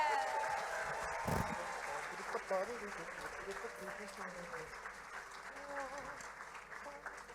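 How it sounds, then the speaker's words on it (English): Applause rises from the audience at a cultural night event for St. Lucia musicians and Taiwan youth ambassadors, moderately loud at first and gradually thinning, with voices mixed in. "Let's give the St. Lucia musicians and our talented Taiwan youth ambassadors the biggest applause again."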